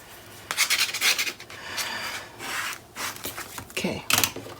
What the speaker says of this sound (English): I'm going to burnish that down.